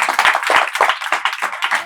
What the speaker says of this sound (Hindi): बहुत बढ़िया, ताली बजा दो इसके लिए।